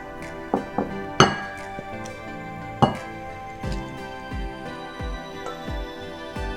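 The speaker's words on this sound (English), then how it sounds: "I'm going to put this on the plate." Beef curry with coconut cream and potatoes being served onto a plate, with a series of close clinks and knocks of a utensil against the dish and pot, irregular and sharp, with no talking.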